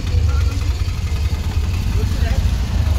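An auto rickshaw runs from Kankavali station toward the bus depot, its engine a steady low chugging rumble heard from inside the cab. A voice talks over the engine.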